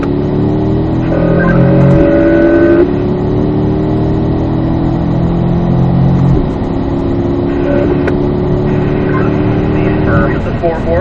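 A car on a race track during a driving session accelerates out of a turn, its engine droning steadily with rising pitch steps as it pulls away, loud and close, alongside in-car talk.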